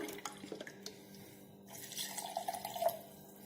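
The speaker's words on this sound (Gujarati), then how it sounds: "હવે આપણે તેની અંદર અડધો ગ્લાસ ફ્રીજનું ઠંડુ પાણી એડ કરીશું" Half a glass of cold fridge water pours into a homemade sugarcane-style juice mix with chat masala, a faint trickle building into a brighter, bubbling splash over the last second and a half, close and alone.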